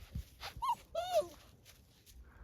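A young Baduk-i, a native Korean dog, whimpers in short high-pitched whines and yips, close and fairly quiet, without talk.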